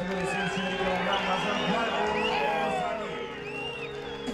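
Arena crowd at a professional fight event in Jalal-Abad cheering and whooping for a local 74 kg fighter, a dense continuous roar with shouts and whistles filling the whole stretch, easing slightly toward the end.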